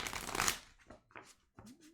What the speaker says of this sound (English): I can't believe I actually got to shuffle this card.